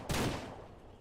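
A single loud gunshot cracks in Ranch Simulator, then a reverberant tail fades out over the next second.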